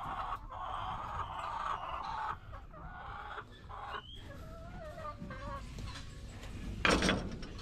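Chickens cluck and murmur continuously at close range in a coop, with a few higher squawks and a brief louder call near the end.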